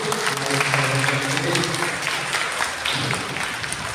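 A church congregation at a Bible festival celebration applauds, a sustained patter of many hands at moderate level, with a faint voice or hum running underneath.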